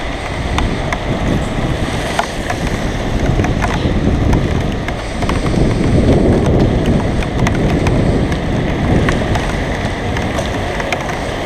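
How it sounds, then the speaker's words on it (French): Constant rush of wind and road noise with rain drumming on a motorcycle rider, a dense unbroken roar throughout. "là rouler sous la pluie"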